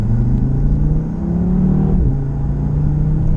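An Audi RS3 engine revs loudly up close, the pitch climbing, then snapping down abruptly as a quick downshift lands, before building again.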